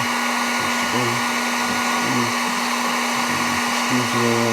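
A heat gun blows hot air onto a part during a BMW repair, holding a steady, loud whirring hiss close to the microphone with a constant hum, while soft rustling and handling noises come and go underneath.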